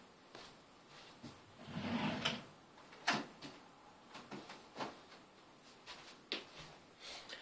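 Drawer opening and closing in a room where a card collection is stored: a series of soft scrapes, sliding sounds and clicks spread over several seconds at low volume.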